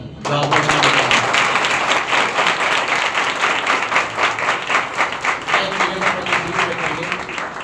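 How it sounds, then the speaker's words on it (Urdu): Church congregation applauding at a Sunday service, a dense, steady wash of many hands clapping that fills the room from start to finish, with faint voices and a low tone running underneath. "خدا کے کلام کے لیے تالیاں کم تھی"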